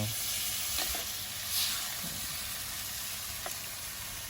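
Stir-fried Thai curry paste sizzling in a pan as a little water is added, a loud, continuous hiss and crackle with occasional stirring scrapes.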